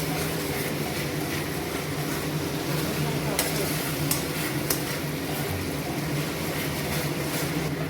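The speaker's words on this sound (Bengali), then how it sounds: "বেশ কিছুক্ষণ নাড়বো" Masala frying and being stirred in a pan, a soft continuous sizzle with faint scraping and a few sharp clinks of utensil on the pan, fairly quiet.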